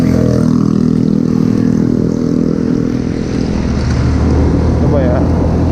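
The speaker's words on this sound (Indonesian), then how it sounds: "motor gua kayaknya tenaganya kerasa agak kurang" A motorcycle rides at night with its engine seeming low on power, a loud, continuous engine drone mixed with heavy wind roar that dips briefly midway and then carries on steadily.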